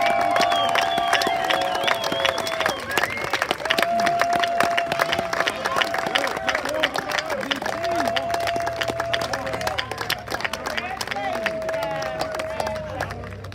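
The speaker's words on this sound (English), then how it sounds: "Could all the parents just stand up and give a round of applause for all the parents of these young men here?" Parents and guests clap and cheer at an eighth grade promotion ceremony, with continuous crowd applause under lively shouting, whooping and chatter throughout.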